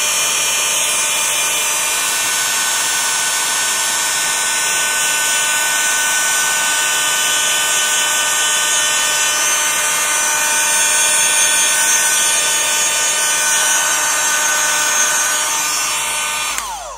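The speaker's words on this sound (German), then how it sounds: "Ich bin übrigens immer erstaunt, wie laut mein Föhn, mein Embossing-Föhn im Video ist" An embossing heat gun blows continuously at close range for the full stretch, a loud steady high-pitched whine and rushing air with a constant tone, cutting off abruptly at the end.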